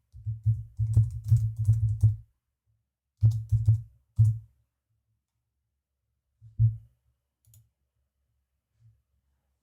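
Short bursts of typing on a computer keyboard, quick clusters of clicks separated by pauses, then a few isolated keystrokes in an otherwise quiet room.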